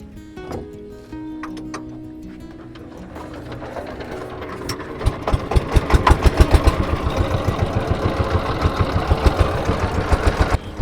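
A motorboat engine on the Padma river starts low and builds to a loud, steady rapid chugging, close by with no talk.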